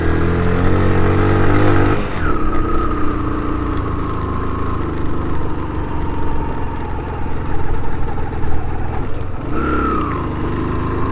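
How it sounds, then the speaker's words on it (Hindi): A motorcycle labouring up a steep hill climb in first gear, the engine droning loud and close with a strained, steady pitch and a couple of surges in revs, no talk. "बाइक पहले गियर से ज़्यादा मैं मुश्किल से चल रही है, बहुत मुसलसल पहले गियर में चढ़ाना पड़ रही है।"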